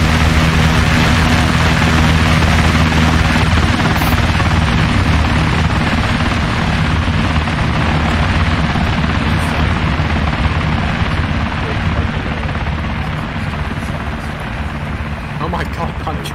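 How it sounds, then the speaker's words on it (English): A helicopter in the military video game ArmA 3 thrums loudly and steadily with a low engine drone and rotor chop, continuous throughout, while people talk over it. "I was looking at the helicopters"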